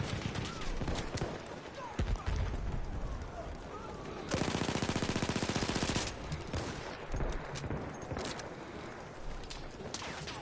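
Video game gunfire: a loud sustained burst of rapid machine-gun fire lasting about two seconds stands out from a busy battle soundscape of scattered shots and explosions, with players talking intermittently around it.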